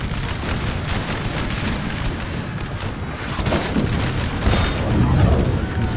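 Artillery cannon fire in the Napoleonic-era video game Napoleon: Total War, a dense continuous rumble of booms and volleys amid battle noise, building slightly louder toward the end.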